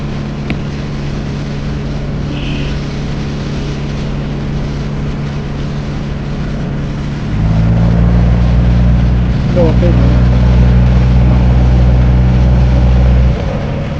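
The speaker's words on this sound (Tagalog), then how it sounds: "padaong na itong aming bangka na sinasakyan" A boat engine rumbles steadily as the boat docks, then grows louder and deeper as the motor works harder partway through, with a low droning hum throughout.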